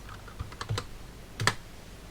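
A few soft keystrokes tap on a computer keyboard while a router command is entered, two or three small clusters of close, quiet clicks with a brief pause between them.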